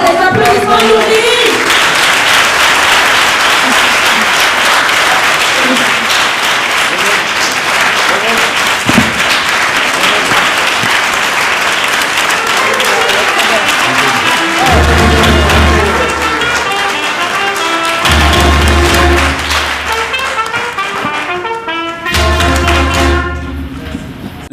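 Sustained audience applause fills a spelling competition hall, a dense, steady wash of clapping that stays loud for over twenty seconds before briefly thinning near the end, with low rumbles underneath.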